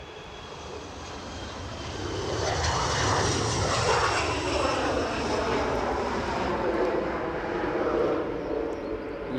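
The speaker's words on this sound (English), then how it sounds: "Loganair, ERJ 145, off to Bergen" A Loganair Embraer ERJ 145 jet at Edinburgh Airport sends a loud sustained engine roar that swells and stays heavy, a broad rumbling whine heard from outside at some distance with no talk over it.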